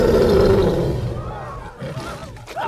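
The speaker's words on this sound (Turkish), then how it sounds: "Kükre be adam, hadi kükre." A cartoon lion in the animated film Madagascar lets out a loud, sustained roar that fades into a weaker, sputtering grunt, with a brief voice near the end.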